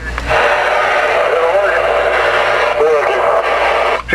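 A voice comes over a Connex 3300HP CB radio on channel 19, thin and compressed, with a steady hiss of static behind the transmission.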